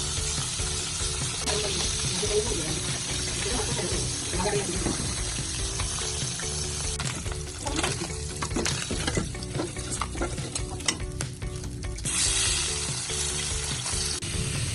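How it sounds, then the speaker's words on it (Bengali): Baila fish fry one by one in hot, salted oil in a wok, giving a steady crackling sizzle with occasional stirring and scraping and a brief watery splash partway through. "আমি বাইলা মাছগুলোকে এক এক করে দিয়ে ভালোভাবে ভেজে নিব।"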